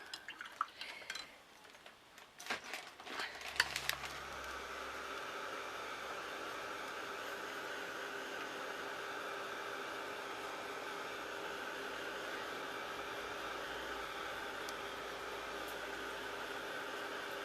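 A hair dryer dries brushed-on craft paint on a shabby chic butterfly, blowing as a steady, even whoosh for most of the stretch after a few clicks and handling knocks at the start.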